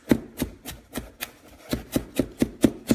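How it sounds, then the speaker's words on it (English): Knife chopping ginger on a cutting board in a home kitchen, about a dozen sharp, evenly spaced chops with a short pause midway, close and clear with no talking. "Chopping it up in the kitchen."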